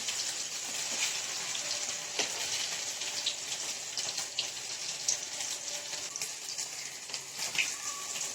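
Chicken 65 deep frying in hot oil, a continuous dense crackle and hiss with scattered sharper pops, steady and close throughout.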